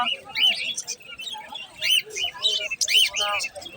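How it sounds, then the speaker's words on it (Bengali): A mynah bird at a pigeon market in Fatullah gives a series of sharp, whistled and chattering calls, loud and close, in bursts separated by brief pauses. "এখানে একটি ময়না আছে"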